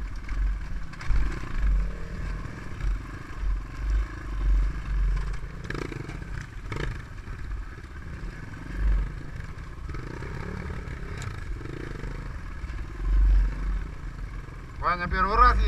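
Several 250 cc enduro motorcycles (GR2 250, Ataki DR 250, T-Rex 250) ride on dusty ground, with a continuous low engine rumble and occasional clatter under voices talking.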